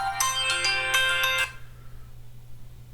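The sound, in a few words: phone ringtone, incoming call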